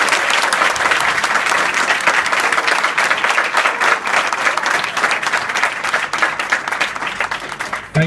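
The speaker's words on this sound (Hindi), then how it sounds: "आप सभी लोग इन सभी लोगों के लिए और खुद के लिए एक जोरदार ताली मार के कार्यशाला में शुरू करें।" A school workshop audience at Shri Durga Ji Madhyamik Vidyalaya in Dayalpur, Azamgarh, giving loud, sustained applause: many hands clapping in a thick, continuous roar from start to finish that tapers slightly near the end.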